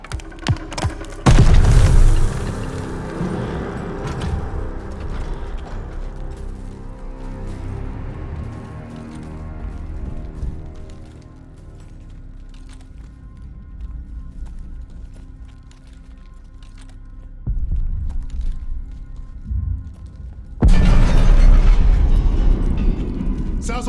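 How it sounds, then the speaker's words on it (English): Grenade explosions in the World War II shooter Call of Duty: Vanguard: two loud, heavy booms, one near the start and one near the end, with rumbling battle noise and scattered gunfire between them. "Grenade! Get down!"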